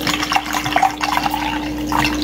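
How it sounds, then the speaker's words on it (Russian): Spring water pours and trickles steadily into goat's milk for rice porridge, a continuous splashing flow with a few brighter drips, close by and with no talking. "Наливаем водички."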